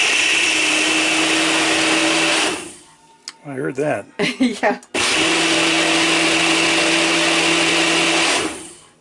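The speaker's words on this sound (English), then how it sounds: "I have a Ninja. I do like this Ninja." Ninja blender whirs loudly with a steady motor roar as it mixes a drink, cuts out for a few seconds while people talk briefly, then runs again at full speed before winding down.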